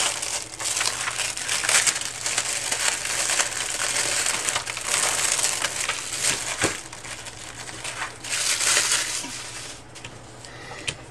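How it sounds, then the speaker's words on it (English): Backing is peeled off Xyron 900 adhesive sticker sheets, giving close crinkling, crackling plastic and paper rustles in irregular bursts, with no one talking. "But anyway, you peel this off."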